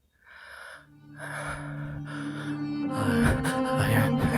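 A voice performs heavy, ragged gasping for breath in a narrated audio drama, portraying a man shot in the lung; the panting grows louder and more strained over a few seconds, with no words.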